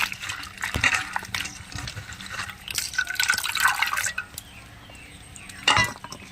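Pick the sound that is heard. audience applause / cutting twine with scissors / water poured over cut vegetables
water poured over cut vegetables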